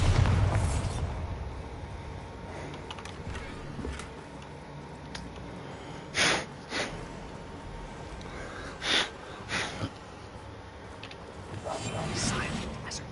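Bombarda explosion spell in a video game: a few short, punchy bursts pop out separately against a quiet background, arriving in two closely spaced pairs.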